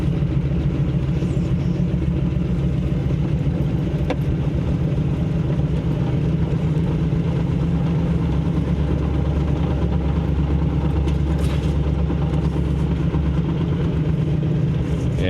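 A truck engine, newly swapped after a breakdown, runs steadily as it's driven around a yard: a continuous low rumbling drone, close and even, with faint clicks and no talking.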